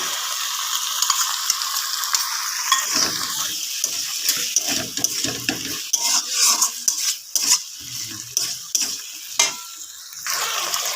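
Chili chicken sizzling in a pan as sauce is poured in and stirred, with a constant frying hiss broken by scraping and clinking of a utensil against the pan, close and fairly loud.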